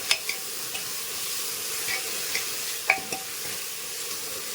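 Potato and carrot pieces are stirred into rice in a hot pan, oil sizzling steadily under scattered spoon scrapes and clinks against the pan.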